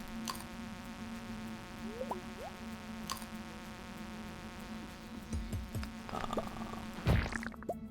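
Steady insect-like buzzing drones throughout in a Minecraft speedrun, with a few faint clicks and plops and a burst of activity near the end, no talking.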